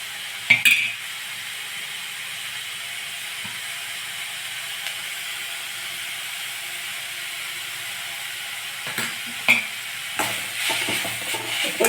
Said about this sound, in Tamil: மட்டும் போட்டுட்டு வதக்கிட்டு ஓரளவுக்கு எல்லாம் திருவுனதுனால ரொம்ப நேரம் வதக்க வேண்டிய அவசியம் இல்லை